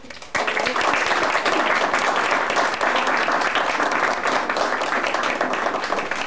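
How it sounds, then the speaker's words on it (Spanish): Loud, sustained applause from a large crowd, starting abruptly and continuing steadily without pause. "les pido que lo recibamos con un aplauso"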